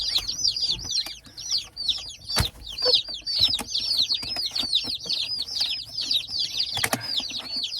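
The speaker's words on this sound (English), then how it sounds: "These chickens are world travelers flown to Nashville." Shipped layer chickens cheep and cluck nonstop at close range, with bursts of wing flapping and scuffling breaking through the steady chatter.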